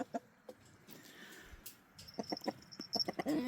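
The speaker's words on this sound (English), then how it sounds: "These guys are crowing probably because they've been removed from their flock and they're in a new place" Roosters relocated to an unfamiliar place, heard as scattered clucks and short calls that grow busier toward the end, fairly close with no talk.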